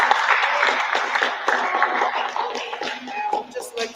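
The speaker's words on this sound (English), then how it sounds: "give yourselves a round of applause" Event attendees at a community gathering give themselves a round of applause, a moderately loud, dense clapping that holds steady throughout with some shuffling and crowd murmur mixed in.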